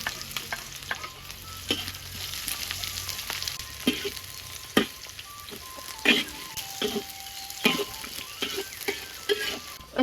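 Sliced seasoning for noodles frying in a pan on a village kitchen stove, a steady close sizzle broken by frequent sharp scrapes and taps of a spatula stirring against the metal.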